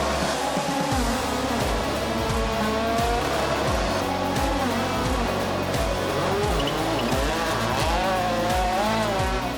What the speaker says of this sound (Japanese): 森蔵さんと2台で華麗なドリフトを決めていたのは佐々木正宏選手です